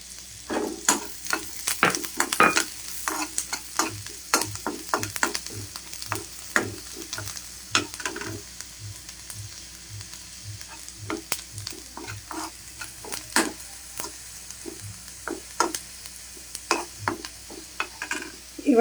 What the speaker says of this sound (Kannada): ನೋಡಿ ಗಾರ್ಲಿಕ್ ಫ್ರೈ ಆಗ್ತಾ ಇದೆ.